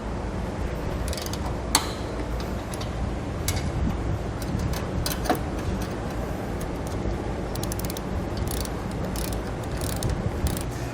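Ratchet socket wrench clicking as bolts are tightened on a Roadmaster crossbar-style base plate kit being installed on a 2017 vehicle, with steady close ratcheting and scattered sharp ticks over a continuous mechanical rattle.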